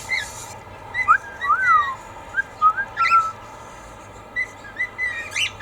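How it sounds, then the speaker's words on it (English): A cockatiel perched on a person's head whistles a string of short, bright, rising and falling phrases, close and clear, with brief pauses between bursts. "the cockatiel on my head whistling"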